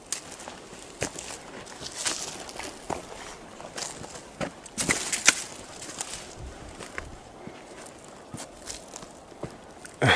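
Elk herd moving through woodland, with scattered crunching hoof steps and snapping twigs at irregular intervals, fairly close, over quiet forest background.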